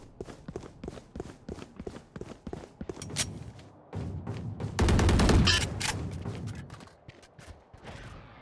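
Gunfire in a tactical shooter video game: rapid clicky shots and footsteps early, then a dense loud burst of firing midway, followed by scattered sharper shots, all close and without talking.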